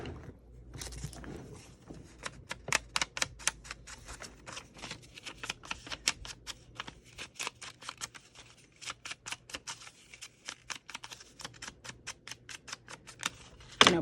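Scissors snip along the edge of a sheet of craft paper, a long run of steady, closely spaced crisp cuts, near and fairly quiet, with no talking.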